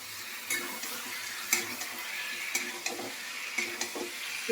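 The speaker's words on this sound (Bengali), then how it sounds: "এই কচুগুলো দিয়ে একটুখানি করে ভালো করে কষতে হবে।" Taro pieces fry in spiced oil in a pan, giving a soft, steady sizzle broken by scraping and clinking as a spoon stirs them now and then, close up and fairly quiet.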